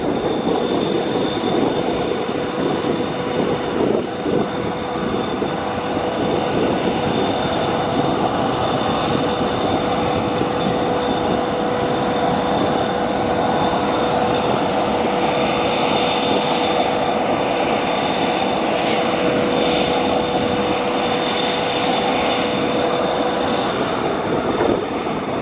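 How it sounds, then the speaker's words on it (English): A Boeing 777X jet makes a steep takeoff, its engines giving a loud, continuous roar with a high whine running above it. The sound stays at a constant level the whole time, with no talking. "This Boeing 777X making a very steep takeoff and then some very steep turns"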